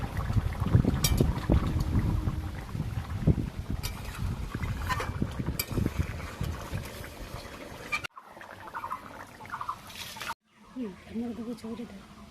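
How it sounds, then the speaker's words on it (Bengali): Outdoor wind buffets the microphone in loud, rumbling gusts during a village cooking session, easing later as a voice comes in faintly near the end. "মাঝে মাঝে হাওয়া দিচ্ছে মনে হচ্ছে মুখে লাগছে"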